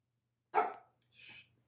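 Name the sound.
small dog barking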